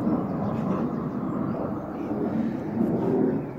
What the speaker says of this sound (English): please excuse the aeroplanes flying overhead